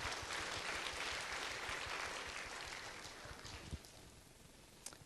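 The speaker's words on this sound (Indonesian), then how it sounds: "Tepuk tangan untuk Ajib." An audience applauds at an Indonesia Mengajar outreach event, with lively clapping that starts strong and gradually tapers off, leaving a few scattered claps at the end.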